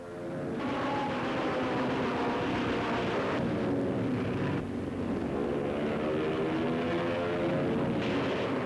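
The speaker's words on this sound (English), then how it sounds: "the Yanks fly their planes superbly in dangerous flying country" Military planes in Korean War combat, a loud, sustained engine roar that swells and dips as aircraft pass overhead, continuous with no talk.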